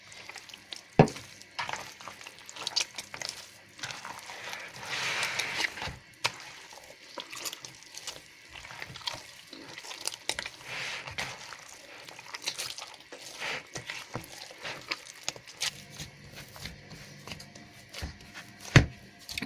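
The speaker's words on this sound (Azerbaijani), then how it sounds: "Yağımızı tökürük və bu yağı buna yedizdiririk." Oil poured onto yeast dough and worked in by hand, soft wet squelching, slapping and kneading sounds with scattered sharper taps, fairly quiet and close.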